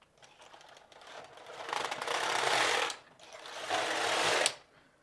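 The carriage of a Passap Duomatic 80 knitting machine is pushed across twice, knitting two rows, each pass a loud close mechanical whirring rasp about two seconds long with a short break between.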